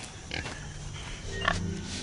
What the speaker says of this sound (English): 어떻게 된 일인지 철조망을 뚫고 돼지가 채소밭에 들어왔습니다